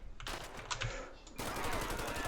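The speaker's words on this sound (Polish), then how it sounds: "Jeszcze strzały, strzały." Rapid bursts of automatic gunfire in a video game, Grand Theft Auto V, crackle loudly, breaking off briefly and then resuming in a dense, continuous volley.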